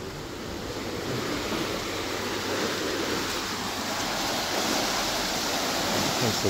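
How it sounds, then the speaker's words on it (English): Water rushes out through the sluice of a canal lock as it is drained, a loud, steady roar of turbulent flow that holds at a constant level throughout. "so we're letting the water out, and that's the sluice."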